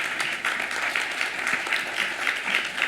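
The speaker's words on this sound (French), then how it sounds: "On peut l'applaudir" An audience at an ethics lecture bursts into sustained applause: a dense, even wash of many hands clapping, steady and fairly loud throughout.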